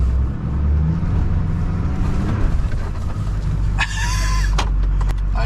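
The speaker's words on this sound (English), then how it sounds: "The tires are spinning and we are not moving." On a homestead, a car's engine revs hard and roars loudly up close while its tires spin in place and the vehicle goes nowhere, a steady rumble with a brief higher whine near the end.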